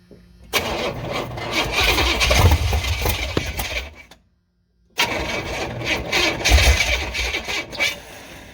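A carbureted Vortec 350 V8 in a 1986 Chevy Silverado cranks loudly with a rough, struggling starter churn for about four seconds, then falls silent for a moment before cranking hard again.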